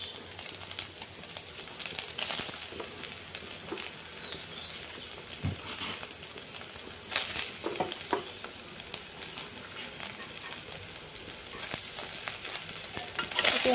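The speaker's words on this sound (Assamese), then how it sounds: "চয়াবিনখিনি প্ৰথমতে অলপখিনি ফ্ৰাই কৰি ল'ম।" Soybean chunks frying in hot oil in a home kitchen pan, a steady close sizzle with soft crackling and occasional stirring scrapes throughout.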